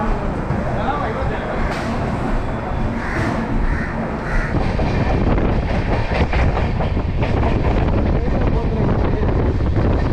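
The Cholan Express (22675) pulling out of Chennai Egmore toward Melmaruvathur, heard from the open doorway steps: loud, steady rumble and clickety-clack of the coaches with heavy rushing wind against the microphone.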